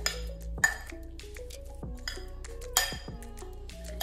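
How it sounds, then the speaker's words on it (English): Cinnamon is stirred into brown sugar in a bowl with a spoon. The mixing makes a few bright clinks and light taps against the bowl over a soft tonal background. "we're gonna mix the cinnamon into the brown sugar first"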